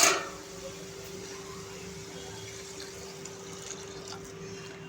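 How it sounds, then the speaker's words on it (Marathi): Water pours into a pot of moong dal set to cook, a steady low trickling fill after a brief louder splash at the start, alone without speech. "आता आपण ह्या डाळीमध्ये शिजण्यासाठी पाणी ॲड करायचं आहे"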